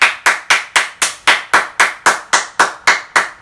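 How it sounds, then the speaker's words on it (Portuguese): A single person claps hands steadily and loudly, about a dozen crisp, evenly spaced claps close up, alone without talk. "Palmas!"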